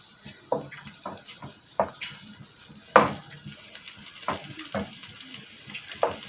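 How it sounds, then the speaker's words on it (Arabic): Onion sizzling in hot oil in a pan, with scattered sharp crackles and clinks from stirring over a low, steady fry. "عندنا هنا طاسه حاطين فيها زيت، هننزل هنا بالبصله."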